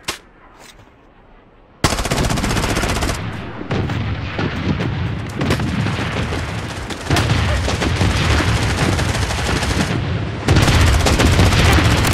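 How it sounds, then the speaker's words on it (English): Missile bombardment in the Blood Strike first-person shooter game erupts into loud, dense, continuous explosions and rapid gunfire that pound on without pause for about ten seconds after a brief quieter opening. "Missile bombardment on its way."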